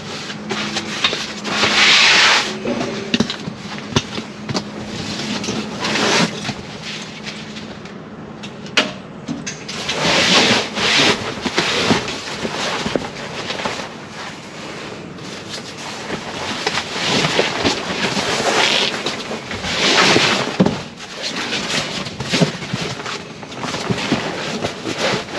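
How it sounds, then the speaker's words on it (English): Bedding being ripped out of a Wild Lands rooftop tent and a Drifta self-inflating mattress fitted, heard as close rubbing, scraping and rustling of fabric in uneven bursts with thumps, over a steady outdoor background and no talk. "So let's rip this out, put the self-inflating mattress in and have a look at it."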